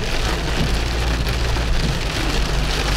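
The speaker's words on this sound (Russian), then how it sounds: "эти дожди, короче, у нас весь месяц, они вообще дожди не перестают лить" Heavy rain pours down steadily in a dense, loud, continuous hiss during a rainy month, with no break and no voices.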